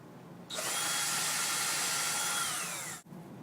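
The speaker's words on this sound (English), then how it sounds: "And then there's a bunch of drilling." A loud, steady power drill whines continuously for a couple of seconds while drilling beer tap faceplates, then cuts off abruptly, leaving a quieter room behind.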